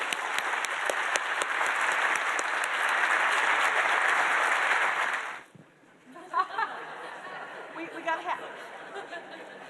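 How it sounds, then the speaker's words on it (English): Audience applause follows a panel discussion, a dense loud clapping that holds steady for about five seconds and then stops abruptly, giving way to murmured chatter and scattered light laughter. "we should all give them a big round of applause"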